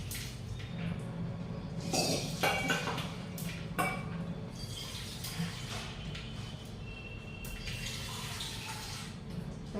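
Cowpea beans are rinsed in a metal pot in a home kitchen, with sloshing, running water and light clinks of the vessel. The washing goes on steadily at close range, with a few louder splashes and knocks near the start.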